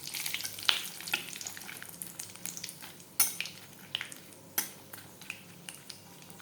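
Bay leaf, dry chillies, cinnamon and cardamom are tossed into hot oil, giving a steady low sizzle with sharp pops and crackles and the light scrape of a spoon against the pan.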